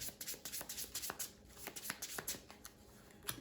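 Playing cards for the Shards of Infinity deck-building game are riffled and shuffled by hand close up, a quick run of papery flutters and soft taps repeating across a few seconds at low volume.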